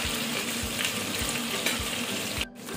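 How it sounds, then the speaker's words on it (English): Pieces of chuck meat fry in a pan with a loud, continuous sizzle and crackle that stays steady close by, then drops off abruptly just before the end. "So I'm going to let it allow it to fry for 5 minutes and I'll flip it over."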